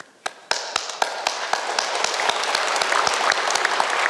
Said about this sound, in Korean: 박수를 보냅니다.